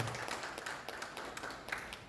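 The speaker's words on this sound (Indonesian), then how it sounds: "Tepuk tangan dulu untuk Pak Majid dan Ibu Mita." An audience at a gathering of teachers at SMA Negeri 1 Tanjung Balai claps for Pak Majid and Ibu Mita, a scattered and fairly faint patter of hands in an indoor hall.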